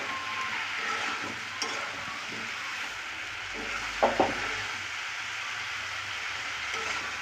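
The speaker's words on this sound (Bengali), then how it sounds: "এবার সবসময় খুব ভালো করে কষিয়ে নেব" Spices sautéing and being stirred in a pan with chilli powder and fresh green chillies: a steady broad sizzle with soft stirring scrapes and a couple of brief louder clinks near the middle, no voices.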